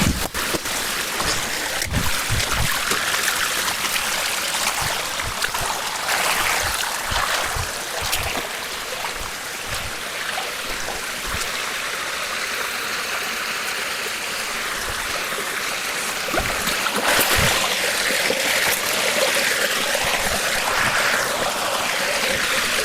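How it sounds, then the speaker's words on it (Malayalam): Steady rushing of a mountain stream in a wild forest fills the whole stretch, broadband and continuous, with occasional brief splashes or knocks close by. "ഈ മലവെള്ളം ഒഴുകി വരുന്ന വെള്ളമൊക്കെ എന്ന് പറഞ്ഞാൽ ശരിക്കും മരുന്ന് വെള്ളമാണ്"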